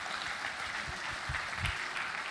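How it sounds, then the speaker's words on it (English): Audience applause at a conference opening ceremony, a continuous wash of many hands clapping at moderate loudness, with some low thumps mixed in and no speech. "Please keep the applause coming for Mr. Austin Avuru."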